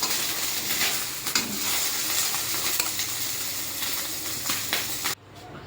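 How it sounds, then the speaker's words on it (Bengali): Small mola fish fry lightly in hot oil with a steady, dense sizzle and crackle close to the pan, continuing for several seconds before cutting off abruptly near the end. "মাছগুলো হালকা করে ভেজে নেব।"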